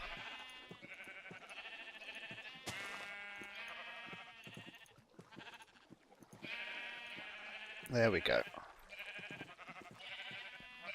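Sheep bleating in Minecraft, a few short wavering bleats spread over background game music, with a burst of louder noise near the end and a brief spoken remark.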